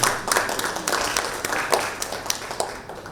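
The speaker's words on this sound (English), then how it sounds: "A big round of applause for all of them." Audience at a supply chain panel discussion applauds the panelists, a steady patter of clapping with some sharper individual claps throughout, at moderate level with no voices over it.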